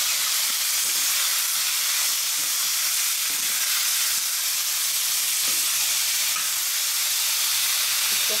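Chicken bones frying in a pan give a loud, steady sizzle that runs unbroken throughout, with faint stirring knocks beneath the hiss.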